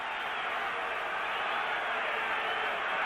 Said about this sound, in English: A partisan crowd calling defense,